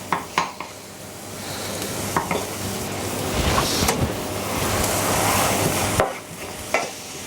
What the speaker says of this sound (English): we've now got the onions frying